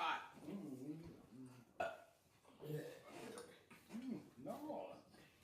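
A person burps several times in a row, short croaking burps close to the mic and mixed with brief vocal sounds around a meal of smoked turkey wings and cabbage.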